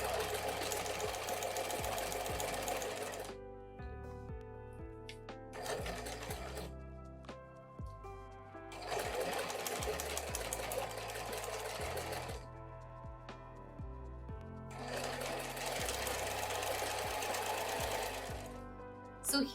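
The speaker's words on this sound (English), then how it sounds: "we're going to join the top and bottom together. And then we'll pin here and sew all along here." A sewing machine runs in bursts stitching a quilt fabric seam for a tote bag, its rapid mechanical whir starting and stopping several times at close range, with brief quiet gaps between runs.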